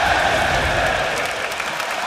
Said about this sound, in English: Crowd obviously enjoying